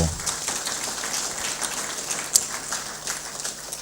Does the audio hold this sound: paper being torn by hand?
no